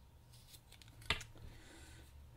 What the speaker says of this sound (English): So you're going to cut it to length at,